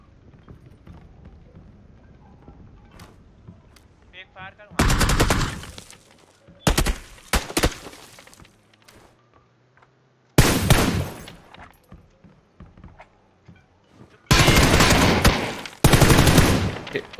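Automatic gunfire in the PUBG video game, several loud bursts of rapid shots, some near and some farther off, separated by quieter stretches with faint game noises.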